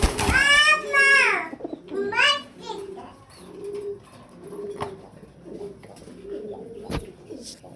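Pigeons at a pigeon farm coo in low repeated murmurs, several soft calls spaced through the clip, while children chatter and play loudly nearby at the start.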